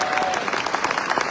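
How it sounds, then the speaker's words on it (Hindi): Loud, dense applause from a large audience in Talkatora Stadium, continuous clapping throughout with a crowd murmur beneath. "जोरदार ताली होनी चाहिए।"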